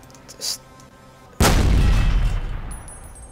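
A handheld 88mm gun fires a canister shot in a Fallout: New Vegas mod, one sudden, very loud blast followed by a heavy rumbling decay, with a faint tone after it.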